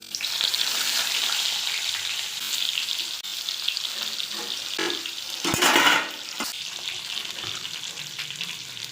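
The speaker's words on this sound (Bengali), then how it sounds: "বেগুনগুলো ভেজে নেব।" Eggplant pieces frying in oil for a Bengali hilsa and taro curry, giving a steady close sizzle with scraping stirs and a louder burst of spatter near the end.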